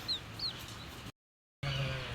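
Pet chickens cluck softly nearby in a backyard at feeding time, with a few faint high chirps, broken by a brief dead-silent gap before low clucking resumes.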